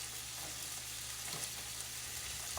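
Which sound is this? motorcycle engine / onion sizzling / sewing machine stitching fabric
onion sizzling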